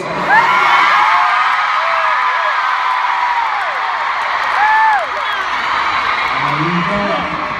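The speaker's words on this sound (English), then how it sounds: "you scream louder for yourself than you did for us" A large crowd at a concert in Edmonton screams, whoops and cheers loudly in a sustained roar, with rising and falling yells carrying over the noise.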